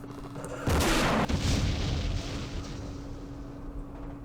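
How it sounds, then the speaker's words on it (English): A recoilless rifle fires in the Vietnam War strategy game Campaign Series Vietnam: one loud, close boom that then rolls off into a long, fading rumble. "Oh no, it's a recoilless rifle."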